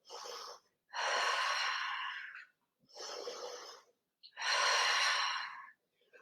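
Four deep, forceful breaths during an intense cardio and core-strengthening workout, each a long airy exhale with short pauses between, close and clear with no talking.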